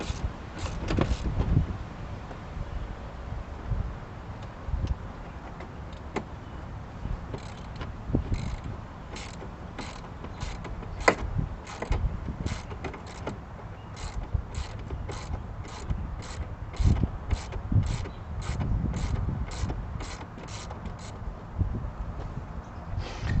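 Bolts being removed from a seat in a Corvette C4 interior, with repeated rapid ratchet clicks in bursts alongside mechanical clunks and handling noises, close and moderately loud.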